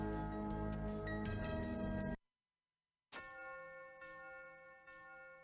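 Bells ringing in the game Momodora, a dense run of bright struck tones with long ringing decay, then a brief silence before a single bell strikes and rings out softly, no voices.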